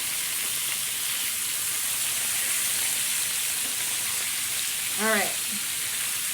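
Pork chops sizzle steadily in a pan over a camp stove, a continuous broadband hiss through the whole stretch, with a short spoken remark and a brief clatter near the end.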